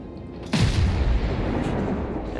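A naval gun salvo from a warship in World of Warships erupts as a sudden heavy boom, then a dense rumbling roar that holds steady and loud to the end.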